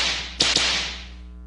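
Two sharp whip cracks snap in quick succession, a fraction of a second apart, over a steady low hum.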